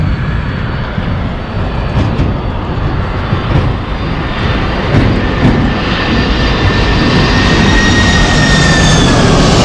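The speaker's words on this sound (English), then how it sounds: "here's an airplane coming right now" An airplane flies overhead on its landing approach to a runway, a loud, steady jet roar that swells and holds with rising whine tones, wind buffeting the microphone throughout.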